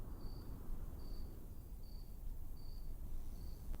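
Insects chirping in the Trüberbrook video game: a steady, regular series of short high trills, about five evenly spaced chirps over a soft hissing background, faint and distant.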